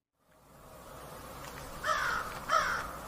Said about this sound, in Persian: صدای قارقار کلاغ‌ها نوید صبح شومی را میداد